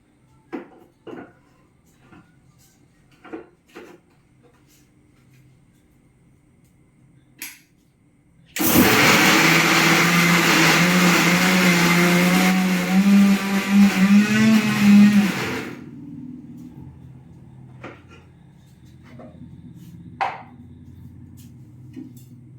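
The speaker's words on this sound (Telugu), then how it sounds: "మిక్సీ పట్టేసుకుందాం" A mixer grinder blending carrot and raw mango into a pickle runs loudly for about seven seconds with a steady whirring roar and a slight pitch shift near the end, framed by quiet handling clicks before and after.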